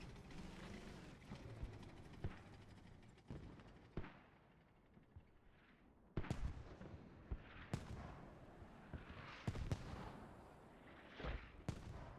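Distant mortar and artillery impacts in a multiplayer military shooter, sharp booming thuds at irregular intervals over a rumbling battlefield bed, some louder and nearer than others, with no talking.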